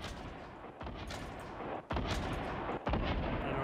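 Gunfire in a Fortnite Battle Royale duos match: heavy blasts and crackling shots come in bursts with brief gaps, loud and close, and no talk over them.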